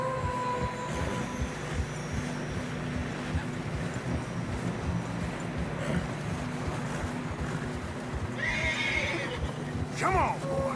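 Horses trudging through deep fresh snow in the video game Red Dead Redemption 2, with steady muffled hoof crunches, wind and a loud whinny near the end, while people talk over it.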